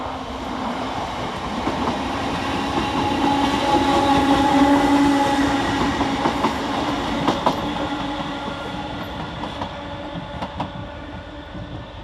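A Class 319 electric train on a Northern service passes through Preston railway station, a steady rumble with wheel clatter building and fading over several seconds, fairly loud with no voices.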